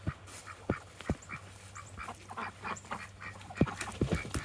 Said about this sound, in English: everyone knows that ducks say quack quack